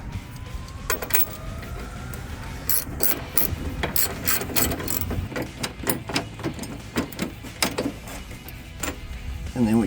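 A hand ratchet drives a bolt for a drop-style running board on a 2019-2024 Chevrolet Silverado 1500, a close, rapid run of clicking pawl strokes in uneven bursts with brief pauses, no talking.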